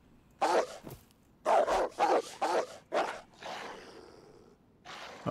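Dogs bark in the video game DayZ, about six sharp barks in an uneven string, some in quick succession, fairly close and clear against a quiet backdrop, with a softer whine between them.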